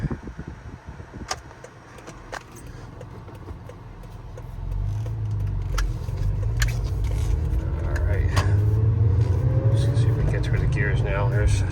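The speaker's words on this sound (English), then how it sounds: "A little less road noise that way." Steady road noise inside a 2014 Toyota FJ Cruiser as the window closes, the low cabin rumble rising and settling while someone talks over it.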